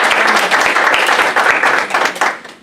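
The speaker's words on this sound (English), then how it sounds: "So a round of applause to all of you." Close, loud audience applause at the end of a session on socially responsible business goals, a brief continuous burst of clapping that begins to fade.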